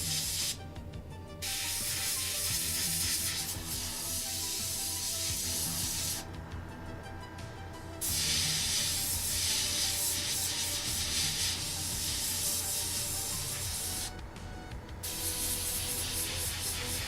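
An airbrush or spray can coats a 1/35 scale AH-1Z Viper and HMMWV model, with a loud continuous hiss in long bursts, broken by three brief pauses.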